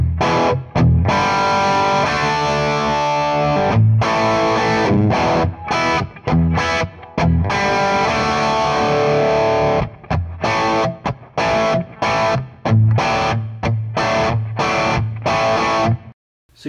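A crunchy, distorted electric guitar amp, recorded with a Shure SM57 dynamic mic, plays choppy rhythmic chords and held notes, loud and up close, with brief pauses throughout.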